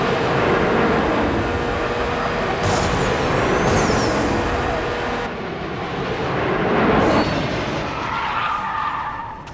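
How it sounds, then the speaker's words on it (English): Race car engine roar and tire skid noise from a drag race against a jet in the mobile racing game Need for Speed No Limits, loud and continuous with sweeping whines through the whole stretch. "Oh snap, we drag racing the jet."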